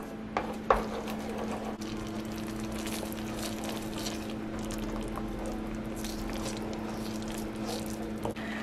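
A spoon stirs a creamy sauce seasoned with salt and pepper in a pan over the heat, giving soft continuous scraping and squishing with a faint clink near the start and a low steady hum underneath.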